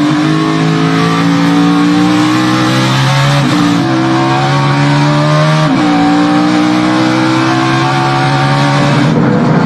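NASCAR Cup Series race cars roar around the track on the last lap of a 2019 race, a loud, continuous engine drone with gear-shift drops and shifting pitch as cars pass close by.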